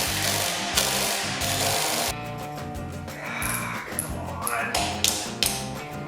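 Loud rattling bursts from a Black & Decker power tool loosening motorcycle brake rotor bolts on a Yamaha MT-07, several hammering runs with brief pauses between them, close up.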